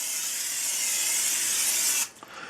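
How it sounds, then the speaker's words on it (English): Oil sprayed from a can onto dough in a stainless steel bowl, a steady close hiss lasting about two seconds before cutting off abruptly, with a few faint clicks afterward. "I'm going to spray it with a little oil."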